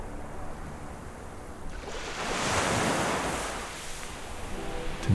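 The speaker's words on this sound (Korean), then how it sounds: "잔잔한 파도 소리와" Soft ocean surf washes in on a Jeju shoreline at sunrise, swelling to a gentle peak and easing back, with light wind noise over the shore.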